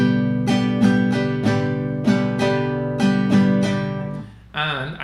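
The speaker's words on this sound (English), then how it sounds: "I'm strumming on beats 1, 2, and 4" Acoustic guitar strummed in a rhythmic pattern on beats one, two and four, crisp chord strokes repeating in pairs plus one, close and clear, ending with a brief muffled rattle.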